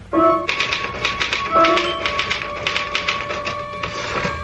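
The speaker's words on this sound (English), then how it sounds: "Can I use the typewriter for a moment?" Rapid, uneven keystrokes clatter on a typewriter up close, a quick run of sharp taps with a brief carriage ring or bell-like tone early on and a short pause before the typing resumes.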